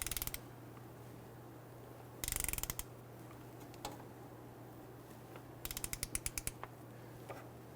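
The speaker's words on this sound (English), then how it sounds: "torque down our transmission mount bolts to 45 foot-pounds" A ratchet torques the transmission mount bolts on a 2011-2021 Jeep Grand Cherokee, heard as three short bursts of rapid mechanical clicking, close and alone against a quiet shop background.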